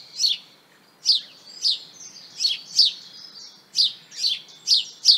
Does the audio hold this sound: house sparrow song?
yes